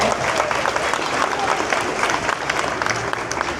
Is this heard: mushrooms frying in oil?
no